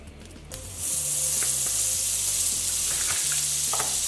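Butter hitting a hot pan of seared salmon bursts into a loud, hissing sizzle that holds steady, with a few soft clicks of a utensil beneath.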